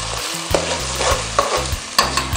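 Tomato paste frying for party jollof rice, a steady close sizzle in the pot broken by a few sharp clinks and scrapes of a spoon stirring, with no talk.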